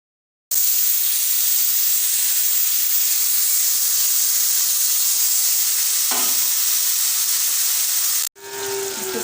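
Marinated mutton hitting browned onions in a hot pan for mutton kosha, giving a loud, steady sizzle that starts abruptly and runs unbroken for about eight seconds before cutting off, with a brief clatter near the end.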